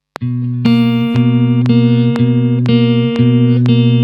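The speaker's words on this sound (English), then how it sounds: "We can add a little bit of digital distortion as well." Lo-fi beat layer run through RC20 digital distortion: sustained buzzy, harmonically rich synth chords repeating in steady half-second pulses with sharp attacks, loud and close, no voices.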